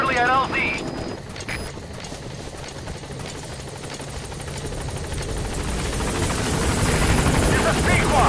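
A helicopter in the video game Metal Gear Solid 5 approaches a landing zone, its rotor thumping in a rapid steady beat that swells louder, with a voice talking over it.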